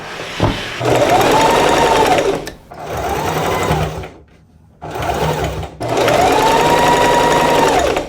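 A sewing machine stitches two dress pieces together in four close, loud bursts of steady whirring, separated by brief pauses.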